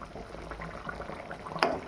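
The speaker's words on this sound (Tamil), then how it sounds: "கத்திரிக்காய் போட்டு கொஞ்சம் வதங்கினோடனே அந்த மசாலா எடுத்து ஊற்றினேன்" Masala is poured into a pan of sautéed eggplant for a dried-fish curry, giving a continuous close sizzle and liquid bubbling that ends with a brief splash.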